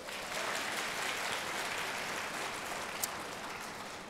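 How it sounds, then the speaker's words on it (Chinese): A large church congregation of well over a thousand people claps in sustained, even applause that fills the room from start to finish, with one sharp click near the end. "我们给他一个掌声。"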